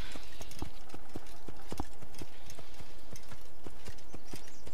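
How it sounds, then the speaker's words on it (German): Slow horse hooves clip-clop steadily and close in Assassin's Creed, a regular plodding walk pattern over a constant game ambience, with no one talking. "Ja, ich reite schon langsam."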